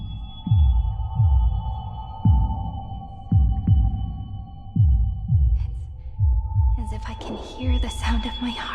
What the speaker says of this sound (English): sound of my heart beating.